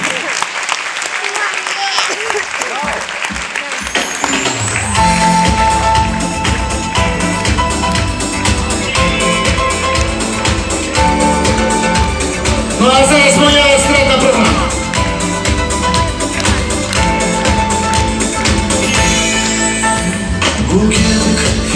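An audience claps loudly and steadily after a Hutsul Christmas carol performance at a Ukrainian concert, with dense, sustained applause that swells and holds for most of the stretch, with a few whoops and murmuring mixed in.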